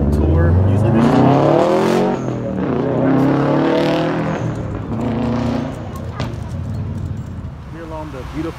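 A Hemi-engined Plymouth Prowler drives along a Boston shoreline road, its engine a loud, steady rumble that swells and eases as it cruises, with someone talking over it throughout.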